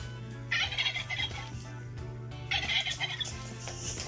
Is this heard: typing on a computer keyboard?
no